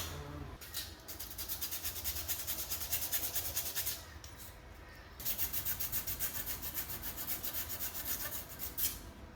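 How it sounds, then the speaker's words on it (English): Sandpaper rubbing by hand on metal engine parts for a cheap VL Commodore, a steady close rasping scrape in long continuous strokes with a short pause partway through, no talking. "I'm going to need some sandpaper, I think, just to clean that up."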